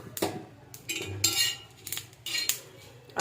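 A metal spoon scrapes and clinks against a pan of dry-roasted spices in a few quick stirring strokes, close and clear.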